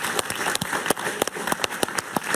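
Studio audience applause on a Spanish-language late-night TV talk show, a brief ragged burst of clapping with sharp individual claps standing out, fairly close and loud, with no talk over it.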